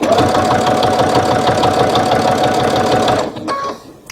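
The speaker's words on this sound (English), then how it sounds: "I'm just holding them together, stitching about 1/8 of an inch from the edge" Up close, a sewing machine stitches two fabric strip edges together for a shoulder bag, its steady, rapid mechanical whir running loud before it slows and stops near the end.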